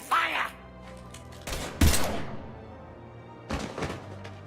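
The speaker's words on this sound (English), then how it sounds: "Now open fire!" Gunfire in the game Mass Effect 3 breaks out in a few sharp, loud bursts of weapon discharge separated by quieter pauses, with a voice briefly heard among the shots.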